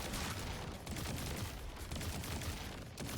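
A Mid Retrograde gun in a video game empties a full magazine as a rapid, continuous burst of fire, heard close and quite dense, with no talking.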